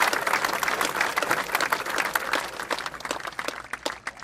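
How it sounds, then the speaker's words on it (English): Crowd applause in the Field of Greens golf video game: a dense, steady wash of many hands clapping, fairly loud and continuous throughout, with no talk over it. "we'll get people clapping"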